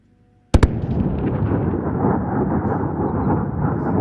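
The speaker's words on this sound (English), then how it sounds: "And that, ladies and gentlemen, was the sonic boom." An Indian Air Force MiG-29 flyby at a firepower demonstration produces a sudden sharp double crack of sonic boom, followed by a long, loud, rumbling roar that fills the rest of the outdoor scene.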